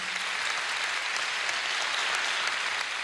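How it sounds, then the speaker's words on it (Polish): Sustained applause from a concert audience at the laureates' concert of the Carpathia song festival in Rzeszów, greeting the festival volunteers; a dense, steady clapping wash that stays even and loud for a few seconds with no voices over it. "ogromne brawa"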